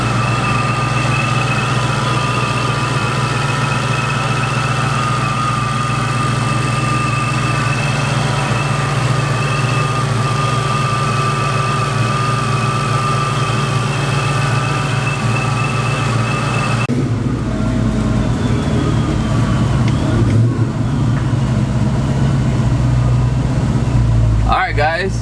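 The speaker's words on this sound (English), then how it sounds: "blower is loud as hell." A 700hp supercharged 2000 Ford Mustang V8 in tropic green idles steadily with a loud blower whine and deep low rumble, close by and continuous, with a brief shift in tone near the end.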